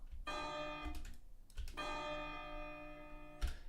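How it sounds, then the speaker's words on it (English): Church bell tolls being edited for a game, pitched slightly higher and faded out, ringing three times in a row, each strike bright and sustained with a long shimmering decay, with no one talking. "That's church bell 2."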